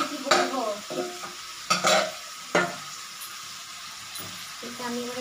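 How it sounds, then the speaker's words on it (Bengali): Chicken kosha being stirred in a hot pan on a home kitchen stove, with a few sharp scraping strokes of the spoon over a soft sizzle, and a person talking intermittently in between. "এটা আমি এবার একটু নাড়ছি।"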